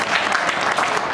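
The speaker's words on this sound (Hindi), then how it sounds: "तो एक बार यार आदमी के लिए ताली बजाओ" An audience at a Hindi poetry recital (kavi sammelan) claps for the poet, a dense, steady burst of many hands that fills the short moment evenly.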